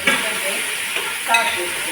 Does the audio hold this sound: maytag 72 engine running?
no